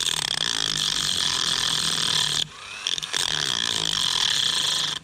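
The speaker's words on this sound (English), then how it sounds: "I've got the Dremel, just a small cutting wheel on it" A Dremel rotary tool fitted with a small cutting wheel whines loudly and steadily, briefly dropping off near the midpoint before biting back into the cut during a steering head bearing job on an RM125 motocross bike.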